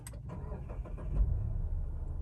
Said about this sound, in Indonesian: kita langsung nyalain mobilnya